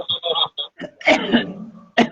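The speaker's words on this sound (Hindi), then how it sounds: "एबर तक खांसी तते भ रहल है जे गीत गाबिए नहीं पाबि रहल छी" Several dry coughs and throat-clearing bursts from a singer during an online live devotional music session, close and fairly loud, in a short uneven cluster with brief pauses.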